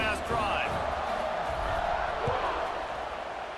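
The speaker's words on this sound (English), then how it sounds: "this crowd is feeling themselves after that last drive" A stadium crowd in the College Football 26 video game roars and cheers steadily around a kickoff in a Duke versus Louisville matchup, a broad, loud wash of noise with a brief whistle-like call early on.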